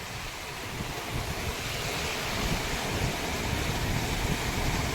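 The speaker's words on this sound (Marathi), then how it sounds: "लाटा बघा कसल्या येतात." Ocean surf rolls in at Juhu beach in Mumbai, a steady broad wash of waves mixed with gusting wind across the microphone, continuous and fairly loud with no clear talk.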